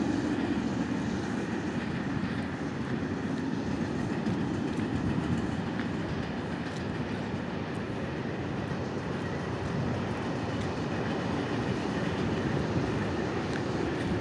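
Freight train rolling past close by, a loud, unbroken roar of wagons and wheels with steady clickety-clack texture lasting many seconds.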